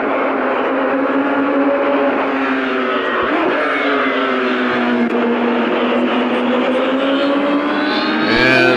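A race car runs at full throttle down the Cooper Straight on a circuit, its engine note droning loud and steady, rising slightly in pitch, with a sharp burst of power near the end.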